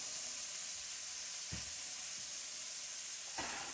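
Food cooking in a pan gives off a quiet, steady sizzle and hiss, with a few brief louder spits and crackles breaking through, and no voices.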